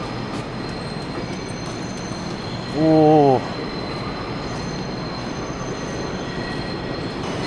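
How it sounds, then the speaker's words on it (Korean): A New York subway express train bound for Manhattan rumbles steadily along old rails, with a brief squealing whine rising from the wheels midway through; one short exclamation is heard. "This is a Manhattan-bound East Express train."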